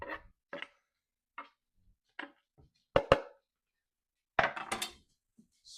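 Garlic dumped into a pan of translucent onions, a few sharp clattering scrapes and knocks spaced out over several seconds, close and fairly loud with quiet gaps between.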